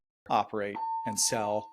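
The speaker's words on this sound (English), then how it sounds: "And that's a fire alarm." A fire alarm sounds as a steady high electronic tone running through the middle of the clip, sitting under ongoing conversation between two people on a podcast.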